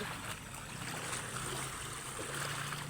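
River water flows in a steady, broadband wash with soft splashy texture where people swim, continuous and fairly quiet throughout with no clear voices.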